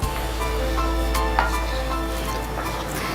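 Mango halwa sizzles and bubbles in ghee as it is stirred, a close, continuous frying crackle with soft scraping over a steady low hum.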